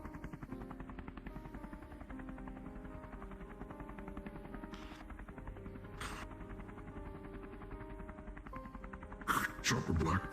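Helicopter flying in to land: a steady, rapid rotor chop droning throughout, faint and distant, with a few brief louder bursts near the end.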